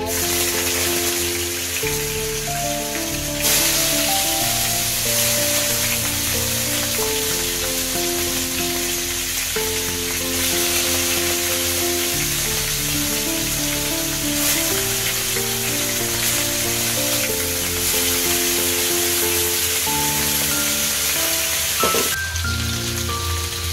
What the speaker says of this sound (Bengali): তেল গরম হয়ে গেছে। এখন আমি মাছগুলা দিয়ে দিব।